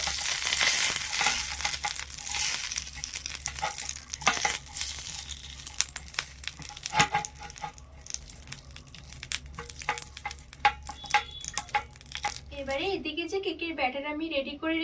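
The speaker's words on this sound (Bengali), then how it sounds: "এবারে এই আপাম প্যানটা একটু গরম করে নেব সামান্য দিয়ে দিচ্ছি তেল" Oil sizzles in a heating appam pan, a close, steady crackle with scattered pops and scraping as the oil is spread around, and a voice talks over it.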